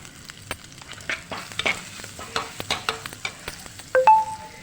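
Onion and ginger masala sautéing in a pan for squid curry, with a quiet sizzle under rapid, repeated scraping and clinking of a spoon stirring, ending in a louder clatter, no voices.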